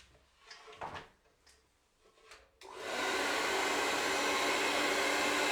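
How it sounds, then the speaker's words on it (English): A white hairdryer switches on after a few soft knocks and rustles, then runs with a loud, steady, close airflow whine while drying hair. "She dries it with a white hairdryer."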